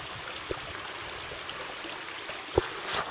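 A low creek runs with little water, giving a faint, steady trickling wash with a couple of soft knocks near the end.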